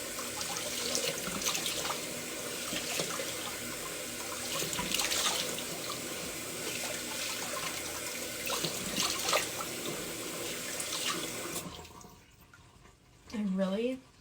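Water runs steadily from a tap into a sink for about twelve seconds, a loud, close hiss and splash that then stops abruptly, followed by a brief voice.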